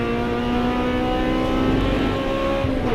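A hot hatch race car accelerates hard along the Rockingham circuit, its engine a loud, steady, rising drone that fills the whole moment.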